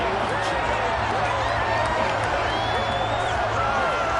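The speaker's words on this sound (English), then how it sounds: "The shouts from this crowd as they watch the replay." A football stadium crowd shouts and murmurs in a steady, dense roar while watching a replay, with scattered whoops rising above the continuous wash of voices.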